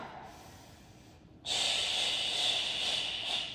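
A sharp forceful breath in a workout class, a close, audible inhalation that sustains for about two seconds after a quieter, softer lead-in.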